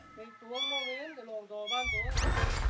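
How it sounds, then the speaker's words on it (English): A kitten meows in a long, drawn-out series of plaintive cries, close and loud, then a burst of rushing noise takes over. "Rescuers retrieved the confused kitten"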